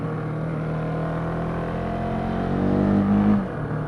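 A 2016 Husqvarna 701 Supermoto motorcycle engine drones steadily up close on an improvised supermoto track, rising briefly in revs near the end before easing back.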